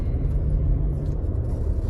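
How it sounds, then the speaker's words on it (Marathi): A car engine hums steadily while driving, a low continuous rumble heard from inside the vehicle with no speech. "त्याची तो गाडी चालवतोय।"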